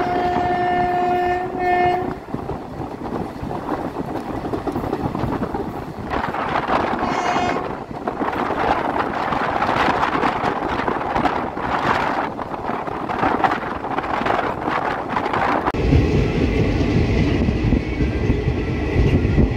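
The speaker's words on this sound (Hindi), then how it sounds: "अब ट्रेन बालाघाट गोंदिया की ओर रवाना होती हुई।" A Jabalpur–Gondia inaugural special passenger train in India pulls away, with a steady rumble of rolling wagons, a horn blast near the start and rising clatter and wind noise as it departs; no talk.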